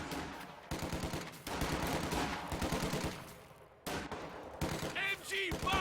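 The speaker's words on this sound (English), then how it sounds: "Taking a bit of rifle fire in the meantime." Rifle fire in a WWII strategy video game, rapid cracks and popping volleys with bursts of automatic fire, moderately loud and mixed with other battle noise.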